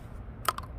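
A single sharp tap of a park golf club hitting a toilet paper tube at impact, with a quick softer follow-up click, in an otherwise quiet room.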